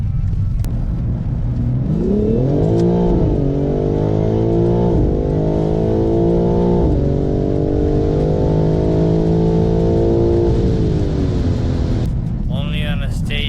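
A BMW M4 G82 with an xHP stage 1 tune drives hard, its engine note rising and falling through sweeping harmonic revs, loud and continuous with a brief higher whine near the end.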